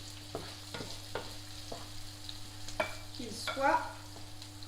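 Seasoned beef is mixed in hot oil with faint sizzling and intermittent scraping stirs, plus a brief scrape or clatter near the end and a few words spoken quietly.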